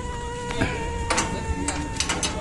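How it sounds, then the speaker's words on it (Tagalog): Mosquitoes swarm indoors, a thin, steady high-pitched whine hanging over the scene, with a few faint taps and clicks scattered through it. "So, daming lamok, mga kabisay."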